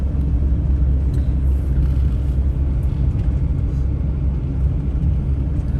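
A car travels the 8-mile scenic drive in Capitol Reef National Park, giving a steady, close, low engine-and-road rumble that holds even throughout with no breaks.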